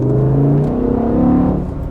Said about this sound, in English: I can hear the induction noise from the front of the engine